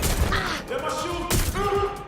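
Gunfire erupts in the Watch Dogs: Legion action game during a police chase. Two sharp, forceful bursts cut through a busy, tonal backdrop of wailing, siren-like sounds and game noise.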